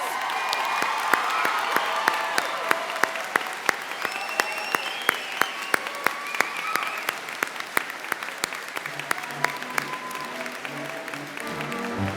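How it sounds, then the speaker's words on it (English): Sustained applause with scattered cheers from a crowd honoring the graduating class of 2019 at a Central Lakes College commencement ceremony in Brainerd, steady and full throughout and thinning slightly near the end. "This is the class of 2019. One more applause."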